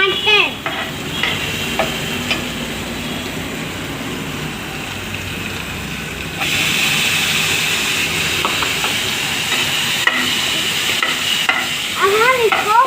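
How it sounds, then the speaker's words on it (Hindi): Tomatoes frying in a pan give a loud, continuous hiss and sizzle that grows fuller partway through, with occasional stirring scrapes and faint background voices. "अब हम इसको फ्राई कर देंगे। देखो हम इसे अच्छे से फ्राई कर रहे हैं।"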